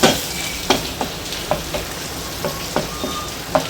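Garlic fries in butter for a quail egg dish, with a close crackling sizzle and a spatula scraping the pan in regular strokes roughly every half second.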